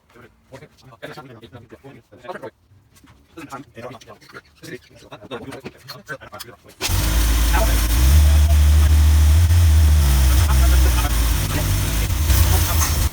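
A 1984 C4 Corvette engine idling during fuel system troubleshooting, a loud, close, steady rumbling idle that begins abruptly after a stretch of talking and fumbling, holding a low throb throughout.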